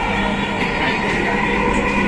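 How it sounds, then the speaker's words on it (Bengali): A Dhaka metro rail train runs with a loud, continuous rumble and rolling hum, steady from start to finish as heard from on board, with no talking. "এবার টিকিট কেটে মেট্রো রেলে উঠলাম"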